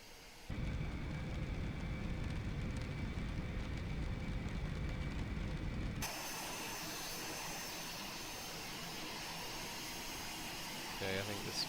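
An Eclipse 550 jet taxis in X-Plane 11, its engines a steady loud whine and roar that switches abruptly partway through to a different, quieter hiss, with a voice talking over it.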